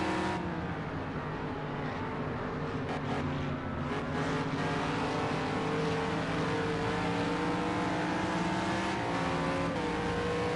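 A GT3 race car engine in a sim racing game roars loud and continuous, with dense steady engine noise and slight pitch shifts over the full stretch and no voices.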